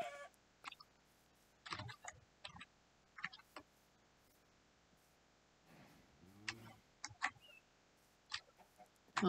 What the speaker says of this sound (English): Oh, look at all these chicken.